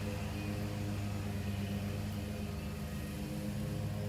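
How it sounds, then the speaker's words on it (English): A lawn mower runs in a neighbour's yard, a steady droning engine hum with a low rumble held at an even level throughout, heard from a distance with no talk. "I got a neighbor that's getting their yard mowed"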